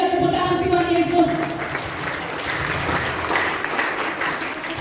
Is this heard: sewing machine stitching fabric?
no